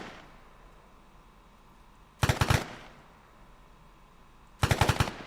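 Rifle fire in Arma 3, two rapid bursts of about four loud shots each, separated by a couple of seconds of quiet background hum.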